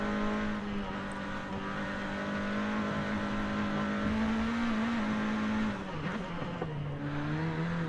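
Sustained car engine drone from Forza Horizon 5 driving, holding a steady pitch that dips and shifts near the end, with faint tire noise, continuous and loud throughout.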